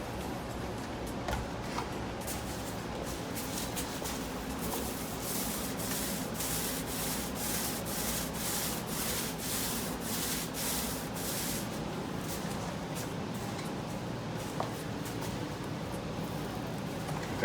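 A paint roller spreads primer across a countertop in steady, rhythmic swishing strokes, close and continuous, with no one talking.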